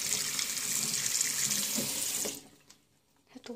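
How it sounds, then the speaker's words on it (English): Water runs steadily from a tap while hands are washed, a loud continuous hiss that cuts off partway through, followed by quiet handling noises. "I'm washing my hands again"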